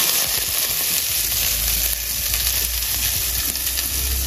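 Mustard seeds crackling and spluttering in hot oil while tempering for a beans paruppu usili, a steady close sizzle with scattered small pops throughout, no talking.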